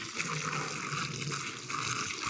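Water gushes in a steady rush from a tap as items are rinsed beneath it, with a broad hiss that swells and dips slightly as the items move through the stream; no voices.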